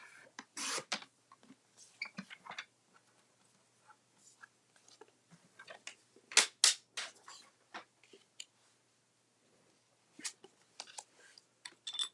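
A paper notecard being cut out in quick bursts: short, crisp snips and rustles come in scattered clusters, separated by quiet gaps, with a louder flurry of cuts partway through.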